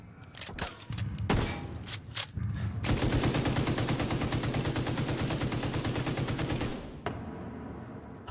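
A gun fires in The Division 2: a few separate shots, then a long, loud, rapid automatic burst of about four seconds, followed by a couple of trailing shots.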